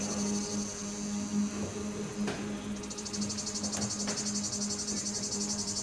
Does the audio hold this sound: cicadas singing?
yes